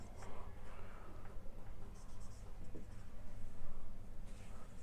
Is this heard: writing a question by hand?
yes